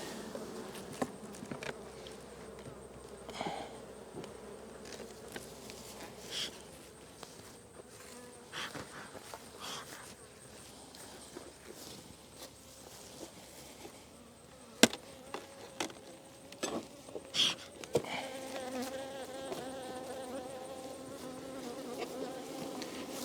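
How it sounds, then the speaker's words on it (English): Honey bees buzz steadily around wooden hive boxes during colony consolidation before winter, a continuous close drone with occasional clunks and knocks of handled equipment. "Good amount of bees in both boxes."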